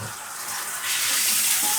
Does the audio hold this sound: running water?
yes